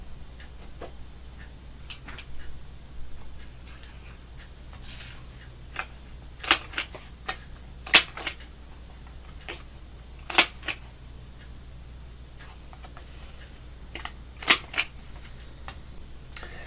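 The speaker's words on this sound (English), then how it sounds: "This is a crocodile corner chomper." A crocodile-shaped corner chomper punch rounds paper corners, giving a few sharp, separate clicking snaps spaced several seconds apart over quiet handling rustles, close and crisp, with no talking.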